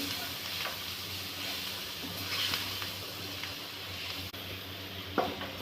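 Masala spices sizzling and frying in a pan for soya bhurji, a steady close crackling hiss with occasional stirring scrapes, no voices.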